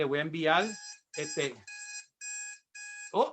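Electronic alarm going off in repeated steady tonal beeps, four bursts in a row after someone speaks, then a voice resumes at the end.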